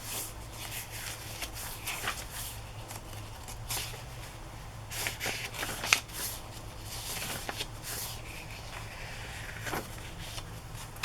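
Handmade journal paper rustles and shuffles softly as pages are handled and turned, with a steady close crinkling texture and a few sharper flicks, no talk over it.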